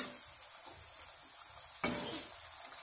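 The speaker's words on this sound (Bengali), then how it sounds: "এক পিঠ ভাজা হয়ে গেছে, উল্টিয়ে দিচ্ছি। কম আঁচেই ভাজছি" Chhana-chire puli frying on low heat give a soft, steady sizzle close by, with a few light taps and a louder scrape and burst of hiss as one is flipped.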